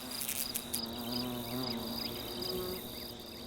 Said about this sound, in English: even a guard hornet can't get on with its job properly when irritating flies are buzzing about